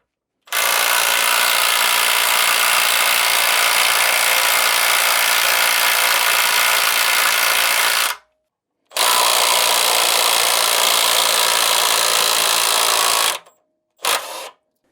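A loud, steady power tool removing a water heater anode rod whirs close up for several seconds, stops briefly, runs again, then gives two short bursts before cutting off.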